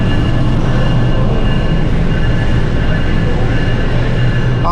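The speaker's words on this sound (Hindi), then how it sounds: "मैं ग्रीन लाइन की कोच में आ गया हूँ कि आपको दिखा दूँ वन अप का अराइवल 9016 इसको लीड कर रहा है," The 1 Up Khyber Mail, led by locomotive 9016, arrives at Lahore railway station, heard as a loud, steady rolling rumble close by with no voices over it.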